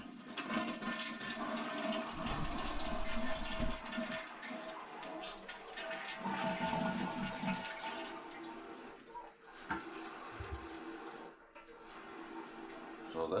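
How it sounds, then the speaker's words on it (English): Water rushes steadily into a toilet tank through a faulty fill valve with a loud, rattling hiss that lasts throughout, briefly dipping and surging, with faint clatter now and then. "this tank's taking a while to fill up and it's making a racket of a noise whenever it does it"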